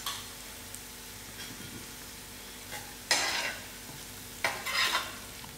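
Mustard seeds frying in oil produce a soft sizzle with a couple of sudden louder bursts of crackle and hiss near the end, close and quiet overall, with no talking.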